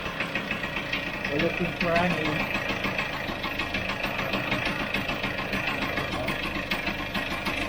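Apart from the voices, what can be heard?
Vespa GS scooter engine idling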